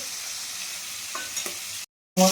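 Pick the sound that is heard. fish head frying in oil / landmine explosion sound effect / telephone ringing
fish head frying in oil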